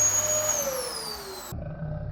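Household Dyson vacuum drawing air through a homemade dust cyclone, a steady loud whooshing roar with a falling whine that drops in pitch before cutting to a lower rumble near the end, no talking.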